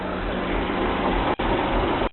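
Citroën DS gearbox noise in second gear, heard as a steady, close mechanical drone with one brief dropout partway through.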